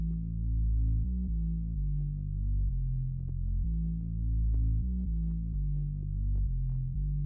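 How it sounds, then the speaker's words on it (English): A deep synthesized bass from an R&B sound kit in FL Studio plays a slow line of sustained low notes, stepping between pitches with a throbbing, humming tone, alone and fairly loud. "Last sound I added is this bass from my upcoming kit."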